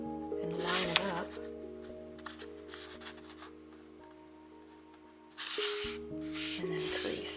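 Paper being folded over and creased while making tabs for a wire and papier-mâché corset, soft crinkling and rustling close by, with a louder burst of handling near the end over a faint background tone.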